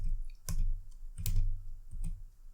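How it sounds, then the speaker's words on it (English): Several scattered keystrokes on a computer keyboard, quiet and close, in an irregular rhythm with short pauses between presses. "and now let's go right here and just type netstat,"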